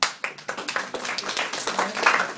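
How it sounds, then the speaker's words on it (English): An audience claps for award-winning young women at a computing awards event, a short burst of brisk, uneven hand claps rising quickly and continuing steadily. "let's applaud these young ladies."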